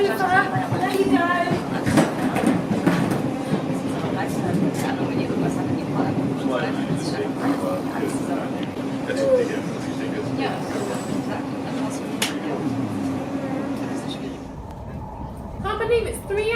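Inside a passenger train bound for Heathrow, a steady low rumble and rolling hum run under continuous nearby chatter and talking, and the noise drops away abruptly near the end.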